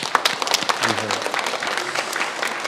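A church congregation claps during an all-generations worship service, a brief burst of scattered, close hand claps with a faint voice underneath.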